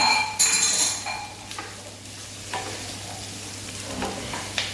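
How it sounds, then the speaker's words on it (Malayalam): Chilli chicken sizzles in a pan over a high gas flame while a utensil stirs it. Sharp scraping and clinking strokes sound close over a steady frying hiss, with no talking. "നന്നായിട്ട് ഇളക്കി കൊടുക്കുക ഗ്യാസിൻ്റെ ഫ്ലെയിം ഹൈ തന്നെ ഇരുന്നോട്ടെ"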